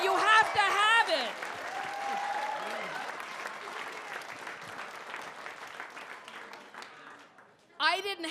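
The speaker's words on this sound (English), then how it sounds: "Clap if you agree." A comedy club audience at Gotham Comedy breaks into sustained applause after the performer speaks, the clapping fading gradually over several seconds before his voice returns.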